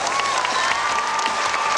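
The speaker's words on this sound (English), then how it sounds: "Let's give them a real big round of applause." A crowd at an All-Star hockey game applauds in a dense, steady wash of clapping, with a faint tone sounding over it throughout the brief stretch.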